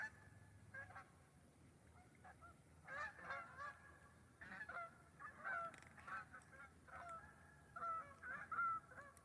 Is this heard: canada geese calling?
yes